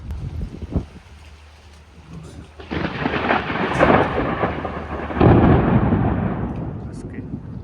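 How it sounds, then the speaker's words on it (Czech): A thunderstorm rolls over a boat off the Croatian coast, with deep, booming rumbles of thunder building and fading over a steady hiss of heavy rain, loud and close. "Blíží se pěkná bouřka"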